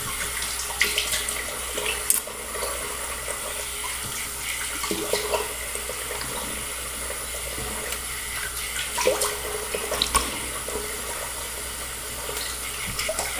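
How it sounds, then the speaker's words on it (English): Water runs from a sink tap as a face is rinsed after a shave, a steady close splashing with irregular louder splashes and gurgles throughout. "let me go ahead and just rinse off a little bit"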